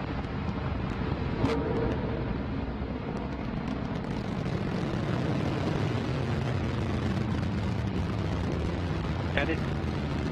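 The Antares rocket engines roar at full thrust as the Northrop Grumman cargo launch climbs from NASA Wallops: a dense, constant broadband rumble with faint talk underneath.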